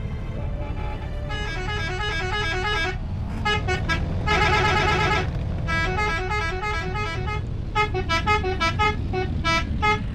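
A noisy road scene with a truck rumbling steadily nearby while horns honk repeatedly in bursts over the engine drone.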